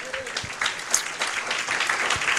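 A church congregation claps in praise at a worship service, a dense, sustained wash of many hands filling the hall, steady and fairly loud, with a few voices faintly mixed in.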